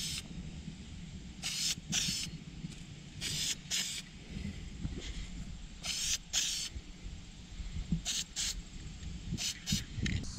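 An aerosol spray paint can applying a coat of color-matched paint to a truck part gives repeated short hissing bursts, a few seconds apart, with rattling handling noise in between.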